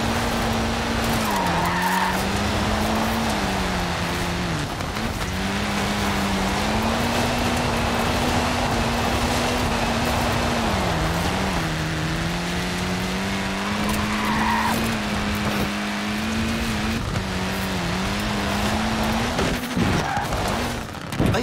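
Tiny Mini tyres skidding and squealing in the Forza Horizon 4 racing game, a continuous loud screech with wavering pitch over a steady engine drone, sustained almost without a break.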